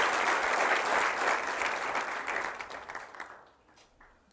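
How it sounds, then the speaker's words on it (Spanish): A church congregation applauds, giving praise to Jesus Christ, with full clapping that holds for a couple of seconds before tapering off into scattered claps and quiet. "Vamos a darle un aplauso a nuestro Señor Jesucristo."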